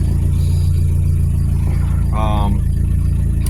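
A 1986 Nissan 720 pickup's carbureted engine runs with a loud, steady low drone close by, and a brief higher tone rises over it partway through.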